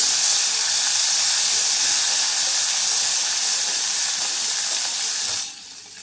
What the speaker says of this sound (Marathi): हा ठेचा टाकला हे थोडंसं आता परतून घेऊ